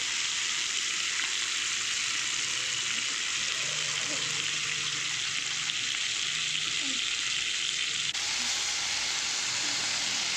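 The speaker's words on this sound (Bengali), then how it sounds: "তেল গরম হয়ে গেছে, সব মাছ কটা একসঙ্গে দিয়ে দিলাম" Hilsa fish frying together in hot mustard oil in a wok, a loud, dense, steady hiss of sizzling that runs unbroken and close from start to finish, with no talk.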